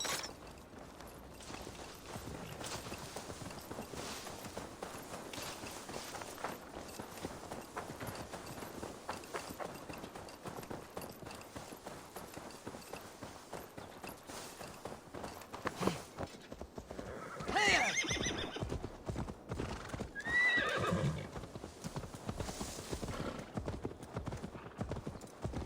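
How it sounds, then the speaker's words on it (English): Steady clip-clop of horse hooves walking in the Assassin's Creed Valhalla game, continuous and fairly close over a low ambient bed, with a horse neighing and whinnying near the end. "Now to deliver Magni his horse."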